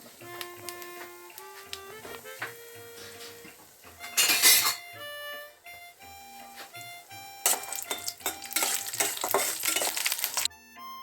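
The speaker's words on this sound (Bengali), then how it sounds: "এই বড়িগুলো একটু লাল করে প্রায় লাল হয়ে এসছে ভেজে ভাজা হয়ে" Lentil dumplings (bori) fried in oil with panch phoron and nigella seeds: bursts of crackling sizzle and spoon stirring come and go under loud tuneful background music.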